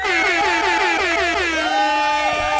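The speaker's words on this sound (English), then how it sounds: "An air horn." Loud, blaring air horn blasts in quick repeated bursts, then a longer wavering honk, harsh and close.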